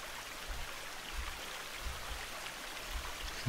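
A waterfall in the survival video game The Forest rushes in a continuous, even wash of water noise, steady and moderately loud throughout with no voices over it.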